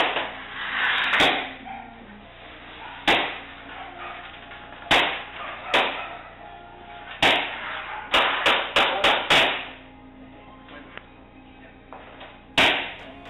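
A metal sheet being cut and hammered smooth for a rocket stove gives loud, sharp metallic strikes at irregular intervals, sometimes in quick clusters, with ringing between blows.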